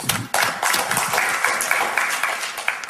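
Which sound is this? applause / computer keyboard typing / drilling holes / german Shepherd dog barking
applause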